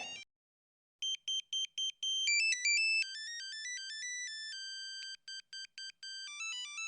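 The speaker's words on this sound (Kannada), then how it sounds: "ಅಮ್ಮ ಮತ್ತೆ ಫೋನ್ ಮಾಡ್ತಾ ಇದ್ದಾರೆ." A mobile phone ringtone for an incoming call plays alone, a melodic electronic tone that starts with short repeated beeps and then runs into a steady looping tune.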